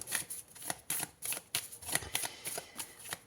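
Cards from an oracle deck being handled during a February horoscope reading, giving a run of crisp, papery riffles and flicks in quick irregular bursts, close and fairly loud, with no talking.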